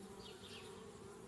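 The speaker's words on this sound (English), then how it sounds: "Darn bees, trying to move into our tree house." Bees buzz around a tree house in Anna's Quest, a steady, faint, continuous insect drone with a low hum underneath, with no talk.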